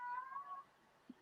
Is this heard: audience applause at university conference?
no